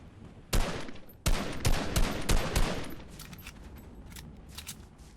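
Gunfire in the video game Fortnite: several sharp, loud shots in quick succession, with a burst of rapid fire in the middle and fainter scattered shots trailing off. No talking.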